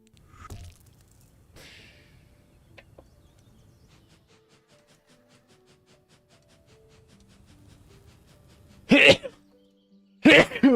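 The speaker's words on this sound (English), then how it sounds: "I keep sneezing, I'm sorry." A person sneezes twice near the end, two loud, sharp, close bursts about a second apart, following a quiet stretch of soft game ambience and music.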